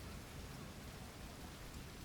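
Steady, dense rain hiss in a video game, broadband and continuous with a low rumble beneath, filling the scene evenly with no voices.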